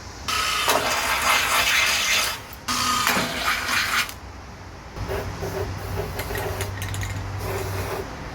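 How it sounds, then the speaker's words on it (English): Two loud bursts of a power drill grinding through the metal car body of a 1988 Honda Civic Wagon, each a few seconds long, followed by quieter clicking and a low motor hum. "Now we're going to drill a couple holes so we can put some zip ties through here"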